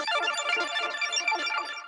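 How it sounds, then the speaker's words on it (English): A rapid, sparkling synth arpeggio ripples up and down in quick repeated notes, steady and moderately loud with no talking. "In the silence, I add this little arpeggio."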